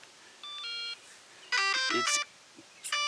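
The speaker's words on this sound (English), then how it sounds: "You're going to get some beeps." A series of clear electronic beeps and chirping tones from a Losi Promoto MX RC motorcycle powering up, some steady and some stepped in pitch, close and fairly loud with short pauses between.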